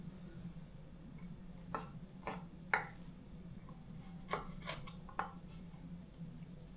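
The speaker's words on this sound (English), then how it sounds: "I just finished peeling the carrots, so now I'm just slicing them. Slicing them thinly here." A knife slices peeled carrots thinly on a board, giving about seven faint, separate crisp cuts at uneven intervals over a low steady hum, with no talking.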